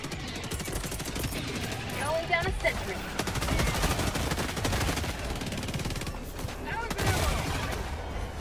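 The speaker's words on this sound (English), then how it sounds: "That's a Gatling turret." A Gatling turret in Helldivers 2 pours out sustained rapid-fire bursts amid a chaotic battle with flying bugs, a dense continuous rattle of gunfire throughout with other combat noise layered in.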